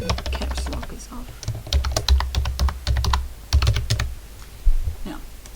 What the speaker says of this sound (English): So I'll type in Christmas.